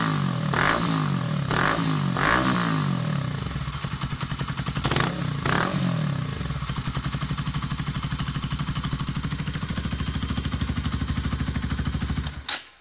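Honda CBR125R with an upgraded exhaust, revved several times in quick bursts, then settling into a steady, close, throbbing idle before cutting off at the end.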